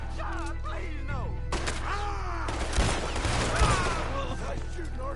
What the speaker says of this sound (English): Nice shooting, Arthur.